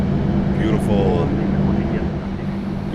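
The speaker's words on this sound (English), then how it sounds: "Good start on engine number 2" Boeing 737-800 jet engine spooling up during start in a flight simulator, a steady droning rumble with a rising whine, heard close and continuous.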